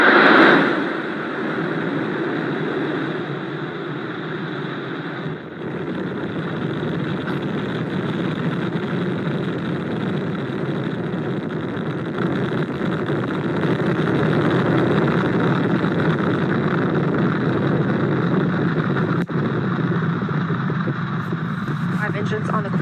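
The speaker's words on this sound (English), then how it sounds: "Engines on the core stage and 2 solid rocket boosters now propelling the vehicle at 128 miles per hour." Artemis I rocket lifting off on core stage engines and two solid rocket boosters, a broad, steady roar that holds for over twenty seconds, swelling slightly midway, loud and continuous with no talk over it.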